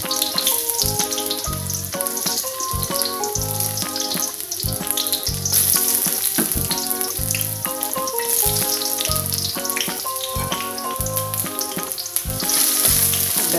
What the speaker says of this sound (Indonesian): Sekarang kita mulai menggoreng bumbunya dulu